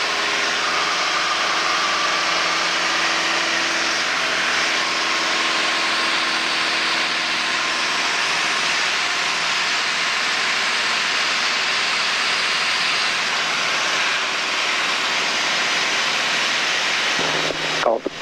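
A training light aircraft's engine drones steadily in level flight at 2,000 feet, a loud, even cabin hum with faint tonal whine, unbroken for the whole stretch until a brief clunk at the end.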